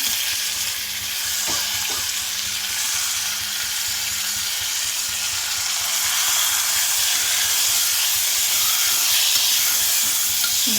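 Tomatoes sizzling in a hot pan for vegetable kurma: a steady, bright frying hiss throughout, with a couple of faint stirring knocks early on.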